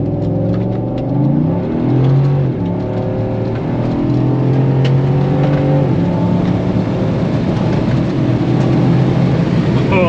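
A GM 6.2L V8 revs up close by in a shop after a Welker Farms installation, its engine note rising and falling in several steady pulls and filling the space for about ten seconds with no one talking.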